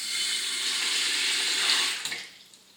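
A kitchen mixer tap gushes cold water steadily into a sink up close, then is shut off, leaving a few drips and a brief trickle.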